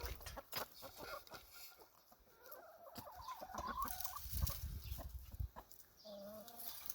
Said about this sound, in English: Spoiled chickens.